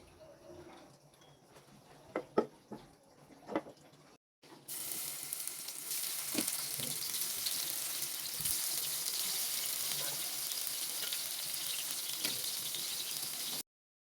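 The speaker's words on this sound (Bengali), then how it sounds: "মাছটা বেশি ভাজবো না, যেহেতু রান্না করব।" Ayer fish fries in mustard oil in a hot pan on a stove: a few quiet knocks and clatters, then a sudden loud, steady sizzling hiss that carries on for about nine seconds.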